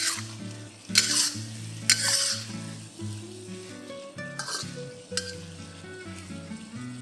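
Chicken with chilies and dried shrimps sizzles steadily in a wok as the sauce cooks down and thickens, broken by a few bright clinks and scrapes of stirring.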